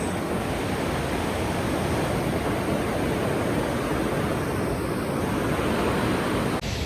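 The fast-flowing Yamuna river on a mountain pilgrimage route, a loud, constant broadband roar of rushing water with no pauses, cutting off abruptly at the very end.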